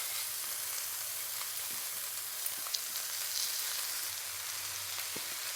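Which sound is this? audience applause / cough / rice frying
rice frying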